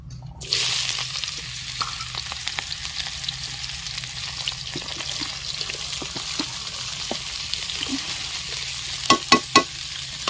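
Onions frying for a village-style prawn curry, a loud continuous sizzle with scattered stirring clicks and a few sharp utensil knocks near the end.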